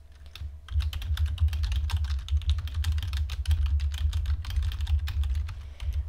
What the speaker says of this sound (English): So all you need to do is come into this white box and type a message.